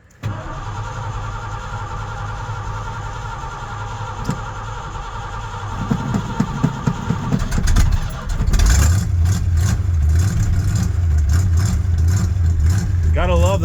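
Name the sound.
1981 Ford Bronco engine cold start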